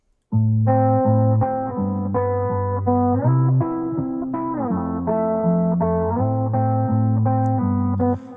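A moody electric guitar line plays alone, sustained distorted notes shifting pitch in a slow, looping pattern through heavy amp effects.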